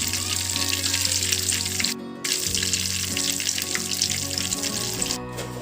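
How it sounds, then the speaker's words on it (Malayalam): Mustard seeds and dried red chillies fry in hot oil with a steady close sizzle, a brief dip near the two-second mark and another near the end, no voices. "അപ്പം നമ്മൾ എണ്ണ ഒഴിച്ചിട്ട് ഇതിലേക്ക് നമ്മൾ കടുക് ഇട്ട് കൊടുക്കുകയാണ്."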